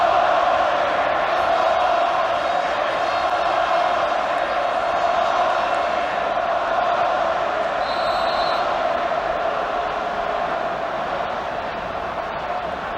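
Stadium football crowd at an Australia versus Iran national team match reacting to a referee decision, a loud, sustained roar of jeers and shouting that holds steady throughout.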